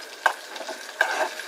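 Onions and green chilies frying in tempering seeds in a pan for an Andhra village-style tail curry, with a soft steady sizzle and two sharper stirring clinks, close up and without talk.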